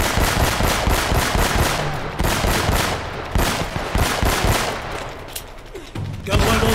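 Dense automatic gunfire in Uncharted: Drake's Fortune, rapid bursts rattling almost continuously for several seconds before a brief lull and a final loud burst.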